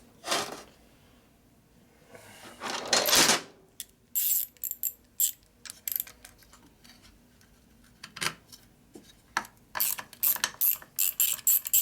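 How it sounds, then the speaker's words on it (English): A nut being loosened with a ratchet on the cable lever of a 1965 Harley-Davidson Panhead FLH 74ci in a repair shop, with bursts of rapid metallic clicks and ticks separated by short pauses, close and fairly loud. "You have to take this nut off to get access to it. Let's get it off."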